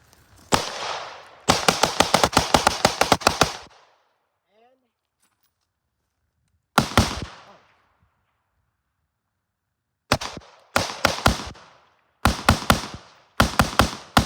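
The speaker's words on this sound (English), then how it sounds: "So that's your Freedom Ordnance Gatling gun." A Freedom Ordnance airsoft Gatling gun built on an AR fires full auto in several sharp, rapid bursts of clattering shots, loud and close, with a short single volley and silent gaps between strings.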